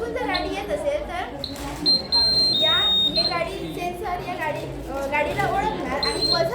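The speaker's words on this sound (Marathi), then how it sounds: "गाडीला ओळखणार आणि बझर वाजल्याने या गाडीवाल्याला समजणार की इथून गाडी येते" A science-fair road-safety model's vehicle sensor sets off a thin, high electronic buzzer in short beeping bursts, heard under a person talking and busy exhibition chatter.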